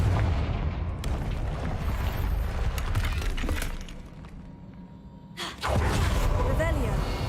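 A Confringo fire blast spell in Hogwarts Legacy erupts in a loud, sustained crackling blast of shattering, booming bursts. The sound drops briefly and then swells back up.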